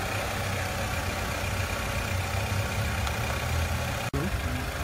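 A car engine idles steadily during a battery charger test, a constant, fairly loud low hum with a brief dropout near the end and no talking.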